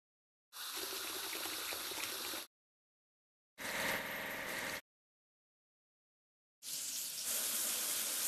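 Gushing water washing a cannon in a children's vehicle game, heard as three loud, even bursts of spray with silent pauses between them, close up and without voices.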